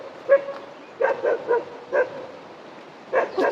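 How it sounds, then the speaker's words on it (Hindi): A dog at an outdoor spot in Himachal barks in a series of short, moderately close yips and bow-wows, several clustered barks separated by brief pauses. "कुत्ता भी है यहाँ पर, कुत्ता।"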